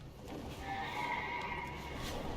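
A horse mount in World of Warcraft whinnies in a single drawn-out neigh, moderately loud and clear against a soft game ambience.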